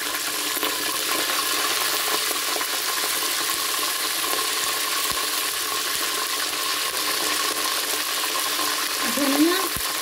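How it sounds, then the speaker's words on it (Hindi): Mutton frying in a pan with light golden garlic, a steady loud sizzle and crackle that runs unbroken throughout, close up, with a brief stir or clink near the end and no talking. "लहसुन हमारा लाइट गोल्डन हो गया, हम इसमें गोश्त अभी से डाल देते हैं।"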